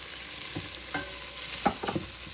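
Dry orzo sautéing in a pan with aromatics, a steady soft sizzle under occasional scrapes and stirring taps, with a couple of louder clacks near the end.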